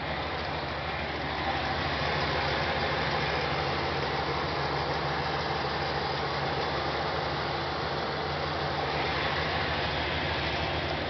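A 1984 Oldsmobile 98 Regency idles steadily and alone, its engine a smooth, even hum with a low rumble held at a constant level for the whole stretch.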